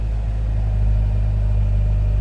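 A car engine runs under load in drive with the parking brake partly applied, producing a steady, loud low rumble with a constant hum throughout and no speech.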